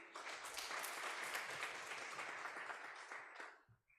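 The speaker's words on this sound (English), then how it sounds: "Let us clap for him again." Audience applause for a speaker at a multisectoral research, science and technology conference fills the room steadily for about three and a half seconds, then tapers off quickly.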